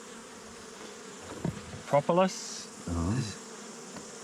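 Honeybees buzz around an opened hive on a New Zealand farm, a steady low hum underneath while a voice speaks briefly over it.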